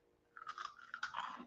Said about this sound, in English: It's a crunchy rice snack.